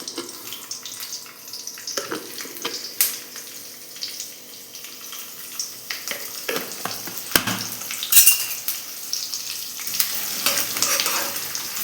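Mustard seeds, curry leaves and urad dal frying in hot oil, a close sputtering sizzle with scattered pops and a few louder bursts of spatter.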